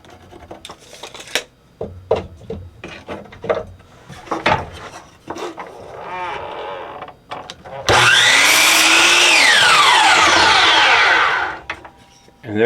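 Hand saw cutting wood for a beginner's wooden candle holder: scattered knocks and handling sounds, then a loud, continuous rasping saw stroke lasting about four seconds, close up, with someone talking around it.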